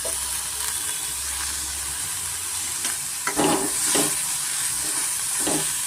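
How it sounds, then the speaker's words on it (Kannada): Chopped coriander and mint leaves fry in hot oil, giving a continuous close sizzle. Stirring strokes and a few louder spattering bursts come in the second half, and no one speaks. "ಇವಾಗ ಇದಕ್ಕೆ ನಾನು ಕೊತ್ತಂಬರಿ ಮತ್ತು ಪುದೀನ ಸೇರಿಸ್ಕೊಳ್ತಾ ಇದ್ದೀನಿ ಅದನ್ನು ಸ್ವಲ್ಪ ನಾವು ಎಣ್ಣೆಯಲ್ಲಿ ಫ್ರೈ ಮಾಡ್ಕೊಳ್ಳೋಣ"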